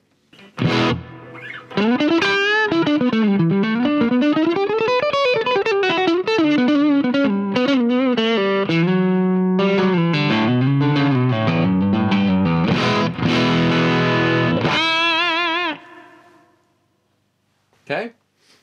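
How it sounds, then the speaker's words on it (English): A distorted electric guitar through a Vox AV30 amp plays melodic lines and chords with a washy reverb tail, loud and continuous, fading out near the end. "Let's add some reverb."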